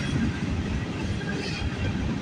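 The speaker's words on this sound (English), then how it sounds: "You got a train meet there." Canadian National and Canadian Pacific freight trains pass each other in a meet, giving a brief low rumble of rolling rail cars with faint wheel clatter and a hint of squeal.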